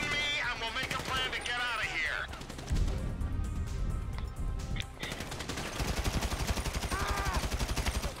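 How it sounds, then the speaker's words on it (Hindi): Rapid bursts of gunfire crackle amid busy game sounds in GTA 5, with people talking over the repeated shots. "ये गोली चला कहाँ से रहा है?"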